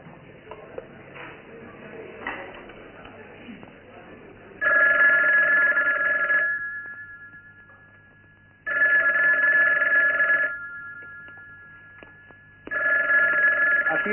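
A telephone bell rings in three long loud bursts separated by pauses, with faint murmur and room noise before the first ring.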